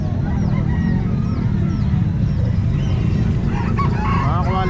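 Roosters crow repeatedly at a busy poultry and pet market in Calumpit, their calls overlapping above a dense, constant din of clucking fowl and crowd noise, with voices mixed in.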